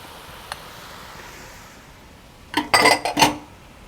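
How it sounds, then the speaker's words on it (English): Cooked white beans are tipped into a pot of minestrone, with a short clatter of utensil against cookware and soft squishing near the end after a quiet stretch. "So we're going to put our beans in, and these are our white beans all cooked up."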